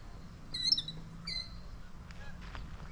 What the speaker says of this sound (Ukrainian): Але це ти гусак чи ти гуска?